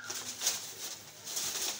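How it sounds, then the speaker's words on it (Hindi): Soft pigeon calls come in short bursts against a quiet background, a few faint cooing notes spread over the moment. "बहुत ही आउट क्लास कबूतर"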